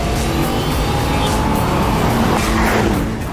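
A car with a 4.4-litre twin-turbocharged V8 drives hard, engine roaring loud and steady with tyre squeal throughout.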